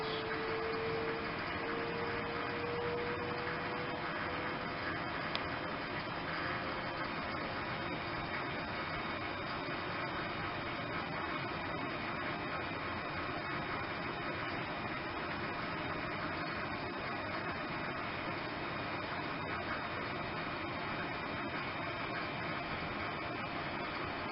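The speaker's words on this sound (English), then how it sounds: "We will observe here how fast the turbo pumps drive the system in lower vacuum levels." Turbo pumps run on a desktop vacuum evaporator as the system is pumped down, giving a steady, even mechanical hum and whir that carries on unbroken for over twenty seconds.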